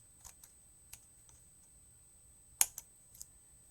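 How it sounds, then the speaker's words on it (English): Small scissors snip paper while a card is trimmed, giving a few quiet, sparse clicks and one sharper cut near the end in a hushed room. "Grab my little scissors,"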